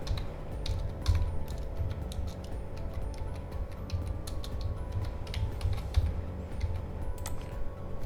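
Fast typing on a computer keyboard for a simple online typing job, a steady stream of light, close key clicks with no talk.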